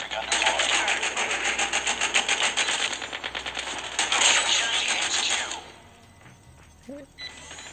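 An RPD machine gun fires in rapid continuous bursts in Call of Duty, loud and close, a dense rattling stream for about five and a half seconds before cutting off into quieter game sounds.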